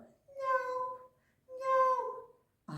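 A storyteller's voice imitates a kitten meowing, two drawn-out mews in a row, close and fairly loud, with a brief bit of speech starting at the end.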